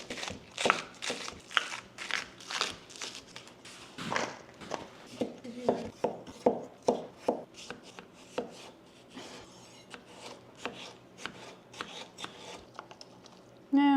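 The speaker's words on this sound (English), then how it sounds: "now we're gonna prep our scallions and our daikon radish" Scallions and daikon radish being chopped for kimchi: a near, steady run of crisp knife strokes on a cutting board, some quick and clustered and others spaced apart, with no talk over them.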